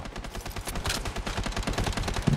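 Glock akimbo pistols fire in the video game Blood Strike, a rapid, continuous stream of close, sharp shots with no real break.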